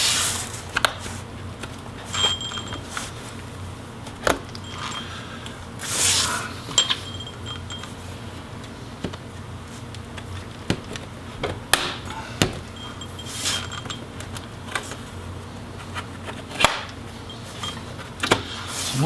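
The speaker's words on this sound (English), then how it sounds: "we're just going to go around and finish trying to pop that bottom case off" A plastic bottom case is pried off an Asus Zenbook Pro UX501V laptop, giving scattered clicks, snaps and scraping taps at an uneven pace, close up, with no talk.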